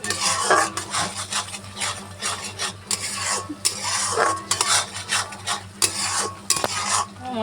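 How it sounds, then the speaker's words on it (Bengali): Spice paste with chili powder stirred and fried in a pan for a fish curry, rhythmic scraping strokes of a spatula over a steady sizzle, close and loud, no speech. "এবার আমি মশলাটাকে ভালো করে কষবো"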